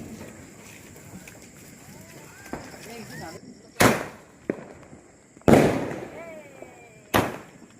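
Diwali firecrackers at a family celebration burst in three loud sharp bangs with a few smaller pops between them, while children and adults talk and exclaim in the background.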